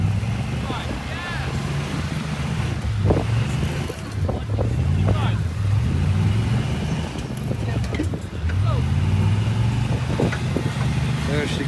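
A stuck vehicle's engine revs repeatedly on soft beach sand at St Augustine Beach, its deep drone rising and falling in surges while people talk loudly over it.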